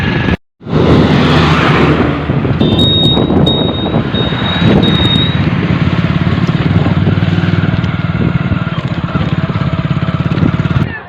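A motorcycle rides along a village road in India, its engine droning loud and steady throughout, with a brief high whine partway through and no talking.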